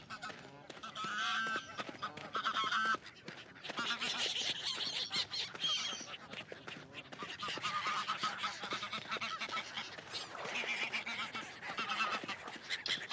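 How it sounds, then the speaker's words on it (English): Ducks in the video game Forest Ranger Simulator keep up a loud, continuous chorus of honking quacks layered over forest ambience, calls overlapping with only brief pauses, no voices. "I'm hearing ducks, I ain't seeing ducks."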